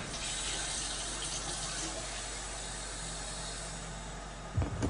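Water runs steadily from a tap in a gym bathroom, a continuous close hiss and splash that holds at an even level, ending with a brief bump of sound.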